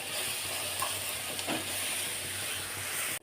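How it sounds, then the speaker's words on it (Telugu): Green chillies frying in a pan for a simple tomato and brinjal curry, a soft, even sizzle and hiss held steady at low level with a faint stir midway, ending abruptly. "ఈ పచ్చిమిరపకాయల పచ్చి వాసన పోయేదాకా మంచిగా ఫ్రై చేసుకోవాలి"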